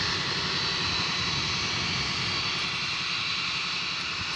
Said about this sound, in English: that's the 757 from San Antonio you hear there in the background